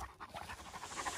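A dog pants steadily outdoors on a mountain, quick rhythmic breaths repeating close by and fairly quiet, with no talking.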